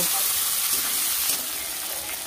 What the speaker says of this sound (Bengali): গাজরের সাথে ফুলকপি বিনসটাকেও আমি ভেজে নেব